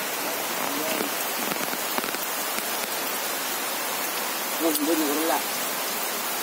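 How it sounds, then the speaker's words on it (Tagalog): Steady rain pours down on a wet day in Bicol province, a dense continuous hiss filling the whole stretch, with a brief faint voice-like tone rising over it near the end. "maulan ng araw na to"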